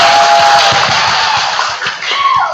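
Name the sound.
audience applause and cheering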